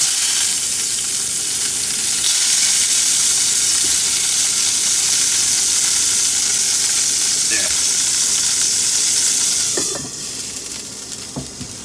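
Mushrooms and fried tofu cooking in hot oil in a pan give a loud, continuous close-up sizzle, with a few stirring scrapes and knocks toward the end as the hiss eases slightly.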